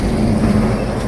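Tractor on tyres running along a highway, a steady low engine drone with road rumble, loud and close throughout.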